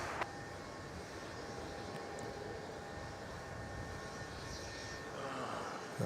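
A Qantas airliner departs Melbourne Airport for Canberra, its engines a steady, broad distant roar that holds evenly throughout with no voices over it.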